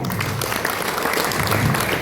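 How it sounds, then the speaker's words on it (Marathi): Loud, steady applause from an audience at a government nursing college and district hospital event in Beed, welcoming newly arrived nursing students, sustained throughout without a break. "विभागात नवीन आलेल्या विद्यार्थ्यांसाठी जोरदार टाळ्या"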